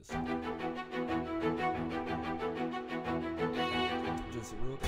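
Low, sustained bass notes hold steady under a dense hip-hop beat, kept constant throughout with drums and melody layered on top, a thick continuous mix at moderate level.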